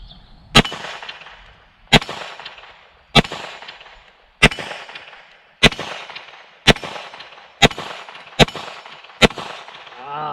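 A Bear Creek Arsenal BC-102 Grizzly rifle fired at a steel popper on a range: nine sharp, loud shots at roughly one-second intervals, each with a short ringing decay, and no voices.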